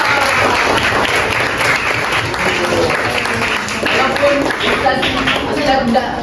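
Children and teacher in an Islamic education classroom clap together in steady, sustained applause that fills the room, with voices mixed in throughout.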